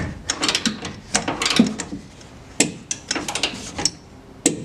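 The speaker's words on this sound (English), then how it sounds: "Tighten these U-bolts up to 40 pounds, it says." A ratchet or torque wrench tightens U-bolts on a trailer with a string of sharp ratcheting clicks. They come in irregular quick clusters, close and fairly loud.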